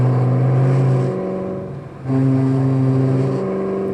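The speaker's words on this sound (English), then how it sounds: "Did he just downshift, chat?" A Ford GT in a high-speed police chase holds a steady engine drone, dips briefly as it downshifts, then rises again to a higher, sustained rev; loud and close with no voices.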